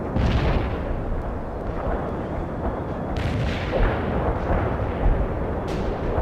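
Artillery bombardment in the video game World in Conflict: Soviet Assault, a loud rolling barrage of heavy booms and blasts overlapping continuously, with sharper impacts punching through the rumble.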